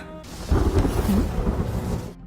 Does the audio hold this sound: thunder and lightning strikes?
yes